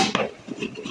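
A knife slices through raw potatoes on a cutting board, giving a few close, crisp chopping taps and soft scraping cuts in a quiet kitchen.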